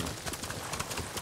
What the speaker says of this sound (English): Call the horse. That's right, you get over here.